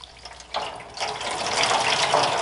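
Wet, freshly dyed wool roving is squeezed to press out excess water, giving a soft, swelling trickle and splash that builds over a couple of seconds, close and alone.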